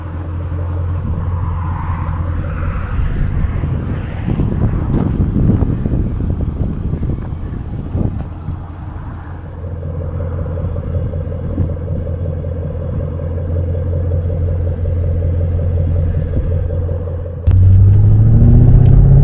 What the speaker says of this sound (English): The exhaust note is beautiful.